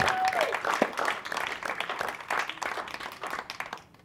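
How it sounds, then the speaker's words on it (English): An evening church audience applauding its district superintendent, a sustained round of clapping from a crowd in a hall at moderate distance, with some voices mixed in. "another big round of applause for your district superintendent"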